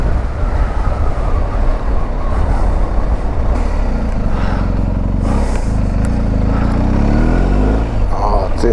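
A 2022 Triumph Speed Twin motorcycle rides along with a steady, loud engine rumble and wind roar, its pitch rising and falling with throttle throughout, heard up close from the bike.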